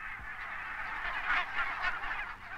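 Barnacle geese wintering on a coastal island honk in a dense chorus, with many overlapping calls from a sizable flock. The honking swells in the middle and stays busy throughout, with no voices.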